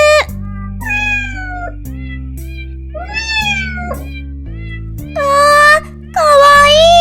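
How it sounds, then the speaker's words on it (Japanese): A cat meows several times, some calls short and others long and rising, loud and close over a bright repeating children's cartoon music bed. "猫ちゃんと遊ぶ。"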